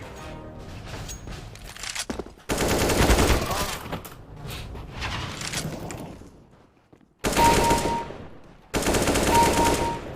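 Loud bursts of rapid automatic gunfire in a deathmatch video game, several sustained volleys separated by short quieter gaps.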